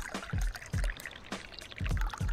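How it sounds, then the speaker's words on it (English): Green tea poured in Dave the Diver, several short splashy pouring bursts in a quick uneven rhythm, each a brief liquid gush ending in a low thud, close and clear. "To pour green tea, just use the right amount."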